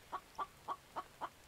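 A chicken clucks in a short series of six evenly spaced, soft clucks, close by and alone against a quiet background.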